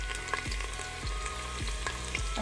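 Chopped onions fry in about a quarter cup of hot oil in a handi pot, a continuous close sizzle broken by a few soft stirring thumps.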